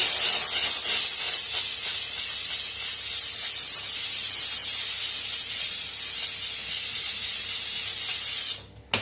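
A steam cleaner blasts a steady, loud hiss of steam against shower tiles to lift soap scum, continuous and close for several seconds before cutting off abruptly near the end.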